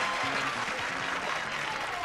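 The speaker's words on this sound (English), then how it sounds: "We got a little bit of premature applause there." A studio audience at the 1982 Blockbusters game show claps in sustained, lively applause, with a voice faintly audible underneath.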